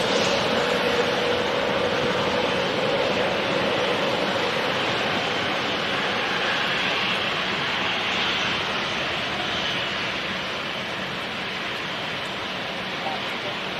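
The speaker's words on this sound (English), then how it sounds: "there will be 4 back-to-back departures" An airplane departs London City Airport, its jet engines producing a loud, sustained broadband roar that holds steady for many seconds before slowly thinning, heard from a distance.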